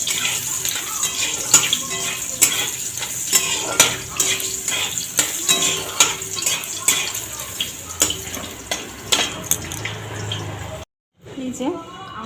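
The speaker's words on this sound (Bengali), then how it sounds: "এবার আমগুলো এখানে একটুখানি ভেজে নেব" Chopped mango pieces fry lightly in oil in a pan, a close steady sizzle broken by clinks and scrapes of a utensil against the pan, cutting out briefly near the end.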